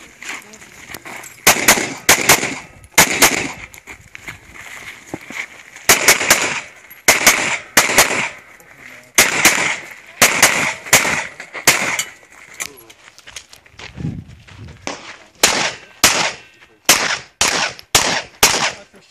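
Repeated gunshots at a USPSA practical shooting match, fired in rapid strings and bursts with short pauses between stages, loud and sharp, with brief voices in the background.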